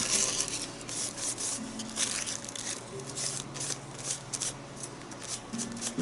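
Tissue paper is handled close up, giving steady crinkling and rubbing rustles for about six seconds with no talking.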